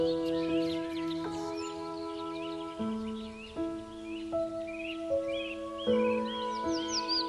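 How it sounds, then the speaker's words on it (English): Outdoor bird calls with several crow-like caws among chirps, over a steady sustained tonal background that rises and shifts in repeated chord-like steps, the birds fairly close and moderately loud throughout. "the chirping of birds"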